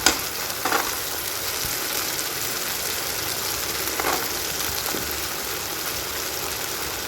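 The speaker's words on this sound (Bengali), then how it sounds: "তেলের মধ্যে পেস্টটা দিয়ে দিলাম আর এর মধ্যেই আমি দিয়ে দেবো কড়াইশুটিগুলো" Spice paste and green peas frying in oil in a wok, a loud steady sizzle with a few sharper bursts of crackle as ingredients hit the oil, no talk.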